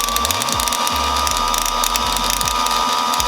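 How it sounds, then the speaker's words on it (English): A sewing machine winds a bobbin with a loud, close mechanical whir. A repeating ratcheting click rises and falls through the whole short stretch, with no talking. "When a bobbin is winding, you're probably gonna wanna watch it to make sure it's not making any errors in its winding."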